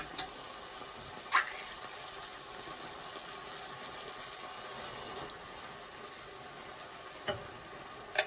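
Tinned tomatoes hitting a hot pan and sizzling: a steady, even frying hiss that runs throughout, with a couple of faint utensil clicks and a soft mechanical hum underneath.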